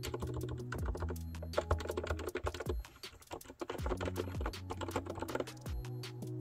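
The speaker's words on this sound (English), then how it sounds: "your button pressing is very soft and quiet" Soft, muted button presses on a QRD Maestro S3 wireless all-button controller, a quick run of light clicks and taps over steady background music.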